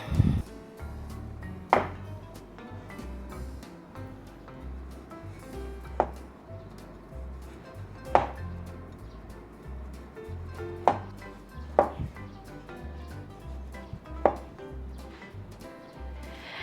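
A knife slices through a block of homemade tempeh, giving about eight sharp, separate cuts spread out over the clip against a quiet kitchen background.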